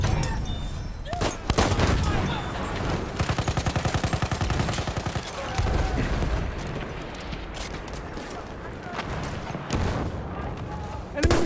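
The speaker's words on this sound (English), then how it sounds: "Enemy machine gun over there." Enemy machine gun fire in a first-person shooter game, with rapid rhythmic bursts of automatic shots and heavy booming impacts over several seconds, loud and close among other battlefield noise, with a voice talking over it.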